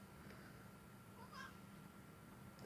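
A domestic cat gives a single short, faint meow in a quiet room with low background hum and a soft clatter near the end.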